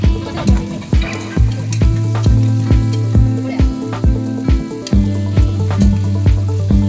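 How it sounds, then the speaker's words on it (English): Onions sizzle and fry in hot oil for chicken biryani, with repeated sharp clanks of a utensil stirring the pan at a steady rhythm over a low background hum. "While frying the onions, add 1 tablespoon of salt."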